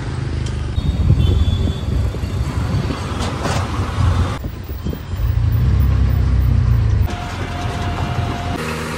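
A scooter engine runs and revs close by for several seconds, with a steady rough mechanical drone that rises and falls with the throttle and a brief dip in the middle, without speech.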